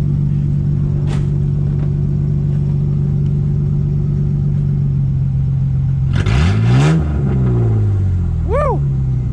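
A straight-piped V6 car idles with a steady, loud rumble, then gets a quick blip of throttle that surges and falls away, followed by a brief rising chirp.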